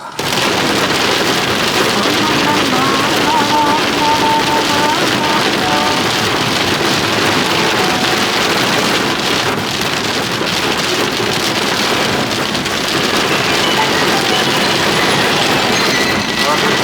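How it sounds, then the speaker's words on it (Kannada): Heavy rain with strong wind during a road journey through a ghat section toward Dharmasthala, a loud steady broadband wash that holds throughout, with talk over it. "ಮಳೆ ಬರ್ತಿದೆ"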